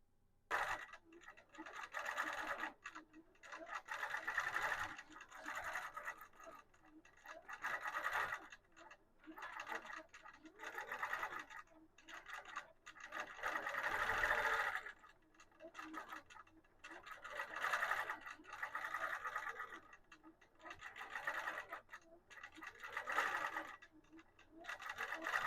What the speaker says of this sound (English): Let's get that one quilted.